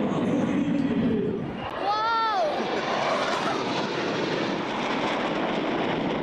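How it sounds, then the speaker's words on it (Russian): Fighter jets of the Strizhi and Russian Knights aerobatic teams roar continuously overhead at the Kubinka airfield airshow near Moscow: a loud, steady engine blast with a brief whining pitch sweep, and a voice talking over it. "От рева двигателей дрожит земля"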